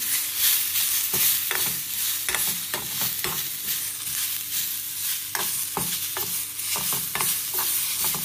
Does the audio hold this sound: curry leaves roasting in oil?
yes